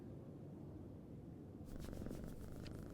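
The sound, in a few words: cat purring, from a video game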